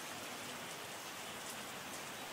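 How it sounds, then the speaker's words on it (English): Steady rain from the Terroir winemaking tycoon video game hisses without a break, a dense and even patter of drops with no voices. "Yeah, rain is coming. It's just gonna be a rainy season, huh?"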